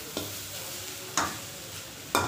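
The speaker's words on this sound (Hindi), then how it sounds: "सारे वेजिटेबल को अच्छे से फ्राई कर लेंगे ऑयल में।" Vegetables for a veg roll filling frying in oil, with a soft steady sizzle throughout and three brief louder bursts of stirring spaced about a second apart.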